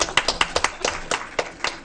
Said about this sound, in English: Can we clap on that?